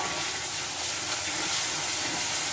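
Spices going into a pan of browned onions for a fish bhuna, giving a loud, continuous sizzling hiss that stays even throughout, with no talk.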